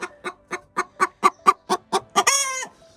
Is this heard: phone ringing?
no